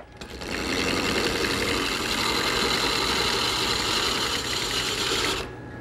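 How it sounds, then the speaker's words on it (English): A wood lathe spins a hard pine blank while a gouge cuts it toward a cylinder, making a steady, loud rasping whir that starts and stops abruptly, with no talking. "I'll use it to remove enough material to turn the blank into a cylinder."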